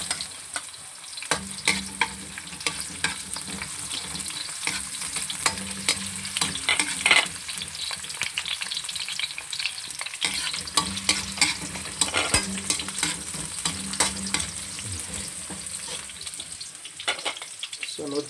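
Onions fry in a pan for a pata tim dish, giving a steady, close sizzle broken by repeated scraping stirs, with no talking.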